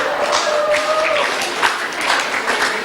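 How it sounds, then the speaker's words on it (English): Year 12 students at a school gathering applaud themselves, a loud, dense crowd of claps that stays steady throughout, with faint voices and a brief tone under it. "Give yourself a round of applause."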